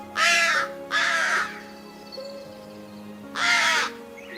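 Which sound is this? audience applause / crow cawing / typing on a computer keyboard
crow cawing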